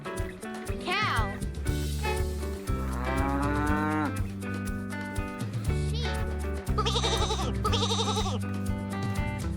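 A cow moos in long drawn-out lowing calls over upbeat children's music, with a sung voice and steady instrumental backing beneath.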